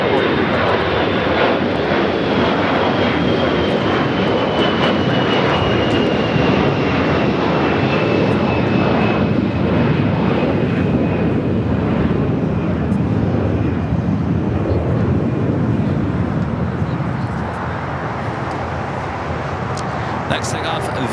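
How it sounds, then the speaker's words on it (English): A Viva Aerobus Airbus A320 takes off at LAX on runway 25 right, bound for Monterrey, its engines a steady, loud roar with a high whine sliding slowly downward as it climbs away. "Next takeoff, Viva Aerobus Flight 623 heading to Monterrey, Mexico in an A320."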